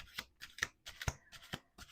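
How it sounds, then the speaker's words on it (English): Playing cards riffled and shuffled by hand, a run of quick papery bursts repeating roughly every half second, close and fairly quiet with no talking. "We're doing 2 more shuffles here."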